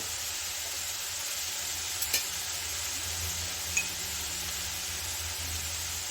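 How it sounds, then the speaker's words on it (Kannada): Onions for a samosa filling fry in a pan with a steady, moderate sizzle, close by and uninterrupted, broken by a couple of brief clinks of a utensil against the pan. "ಜಸ್ಟ್ ಒಂದು ಎರಡು ನಿಮಿಷ ಫ್ರೈ ಮಾಡಿಕೊಂಡ್ರೆ ಸಾಕು ಈರುಳ್ಳಿಲಿರೋ ನೀರಿನಂಶ ಹೋದರೆ ಸಾಕು"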